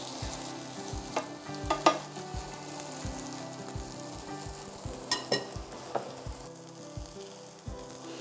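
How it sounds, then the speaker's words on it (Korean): An enoki mushroom and canned tuna pancake fries in a pan with a constant soft sizzle, while a utensil taps and scrapes irregularly as the batter is mixed, close by and without speech. "부치는 중간에 이렇게 좀 골고루 섞어 갖고 하셔야 돼요"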